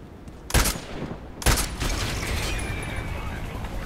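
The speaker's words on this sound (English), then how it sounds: "Mortar." Two heavy mortar blasts in the shooter game Contract Wars, close and loud about a second apart, each followed by a rumbling tail and ongoing battle noise.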